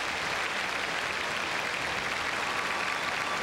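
Steady, dense applause from an arena crowd at a 1998 Scotties women's curling match, cheering Sandra Schmirler and her team; a continuous wash of clapping held at an even, fairly distant level with no speech.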